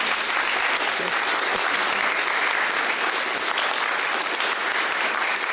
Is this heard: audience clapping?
yes